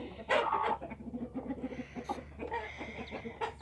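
Chickens in a coop with baby chicks nearby: a close, busy mix of clucking and squawking calls in irregular bursts, fairly loud and continuous, over a low steady hum with no clear talk.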